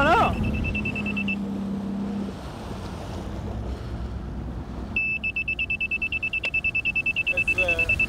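An electronic alarm beeps in a steady high-pitched tone, cutting out and then returning as rapid repeated pulses, over a broad rushing background with someone talking briefly near the start.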